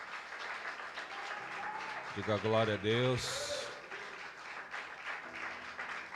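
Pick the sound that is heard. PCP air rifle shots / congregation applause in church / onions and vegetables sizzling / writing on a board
congregation applause in church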